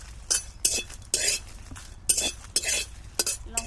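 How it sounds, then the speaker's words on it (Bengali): Dry red chillies tossed into a hot wok for raw mango pickle, with a run of sharp metal clinks and scrapes from a spoon stirring against the pan in quick bursts, up close and without talk. "কড়ার মধ্যে প্রথমে আমি শুকনো লঙ্কা দিয়ে দিচ্ছি"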